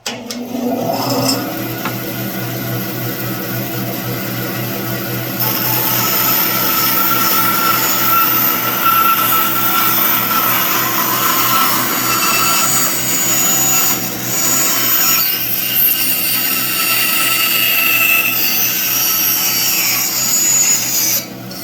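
A bandsaw fitted with roller bearing guides rips steadily through white oak, a loud continuous whining cut with rasping wood noise that holds for about twenty seconds without pause, with no voices.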